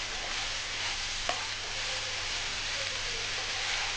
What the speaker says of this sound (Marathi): पालक छान आता आपल्याला मिक्स करून घ्यायचा आहे.